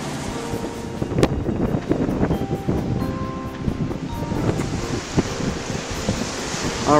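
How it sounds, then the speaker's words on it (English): Strong wind buffets the microphone at a chilly public beach access on Panama City Beach, Florida, a steady roaring rush over surf, with no talking. "It's extremely windy."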